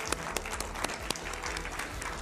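Studio audience applauding to welcome a guest, an economist, onto a Hindi talk show, a steady wash of clapping with a few sharper claps standing out.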